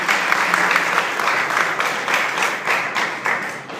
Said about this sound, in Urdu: تالیاں بجائیں گے آپ یوحنا کے لیے۔